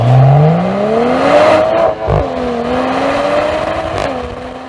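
A 3.0-litre inline-six in a 2027 Mercedes-AMG GLC 53 revs up under acceleration, loud and close, its tone rising steadily through the gears with brief dips at the shifts.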